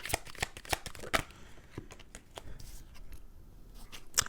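Tarot cards are shuffled up close in a quiet room, a series of crisp riffling and slapping bursts that come in quick clusters and then taper into lighter, scattered flicks.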